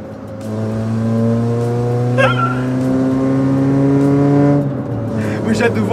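A loud modified Renault Clio built as a rally car revs hard close by, its engine tone holding and rising steadily, then dropping off near the end, while people talk over it.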